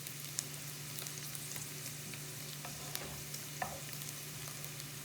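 Bacon and onions frying in a pan, giving a steady close sizzle and crackle with a few light stirring taps and pops, without speech.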